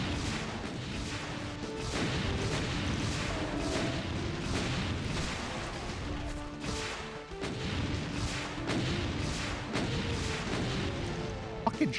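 Rocket explosions in Doom with the Brutal mod go off as repeated booming blasts and crashes in quick succession across the whole stretch, loud and dense with little pause between impacts.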